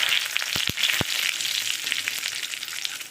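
Whole spices, dried chillies and bay leaves spitting in hot oil in a kadai for mung dal with ridge gourd, a steady close crackling hiss broken by a few sharp pops near the start.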